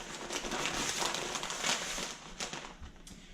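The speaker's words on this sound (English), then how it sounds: "Another layer of the paper like so." Butcher paper crinkling and rustling as another layer is wrapped around tender pulled pork, a continuous dry rustle with a few sharper crackles, close and fairly quiet.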